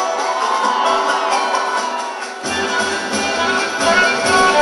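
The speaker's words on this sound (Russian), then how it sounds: "Ваши аплодисменты!" Outdoor crowd at a district anniversary celebration and ATV race awards, cheering and applauding continuously, a dense wash of noise that swells louder toward the end.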